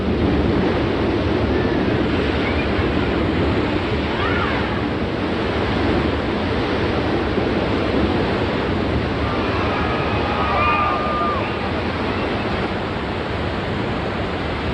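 A flash flood pours down a hillside, a loud, steady roar of rushing water filling the whole clip, a broad continuous wash with faint bird calls above it.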